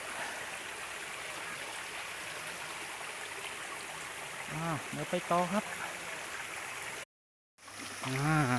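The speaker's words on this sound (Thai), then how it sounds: "เสียงลำธาร ไม่ถึงขั้นกับว่าน้ำตกนะครับ เป็นลำธารเล็กๆนะครับ" Steady soft rush of a small flowing stream at Khao Kradong, Buriram, Thailand, continuous in the background, with someone talking over it toward the end.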